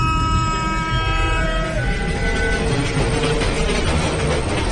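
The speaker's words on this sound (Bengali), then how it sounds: "সঙ্গে সঙ্গে চলন্ত ট্রেনের ফোঁস ফোঁস হড় হড় শব্দ" A train rumbles past close by, with a steady heavy roar and some fading tonal whistle or horn notes at the start.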